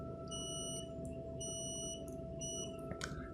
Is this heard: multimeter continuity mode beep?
yes